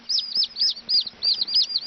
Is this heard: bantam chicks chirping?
yes